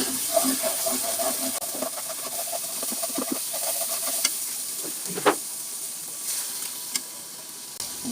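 Spiced paste of a prawn dish cooking in oil, a steady close sizzle with soft stirring scrapes and a few sharper clicks of a spoon against the pan.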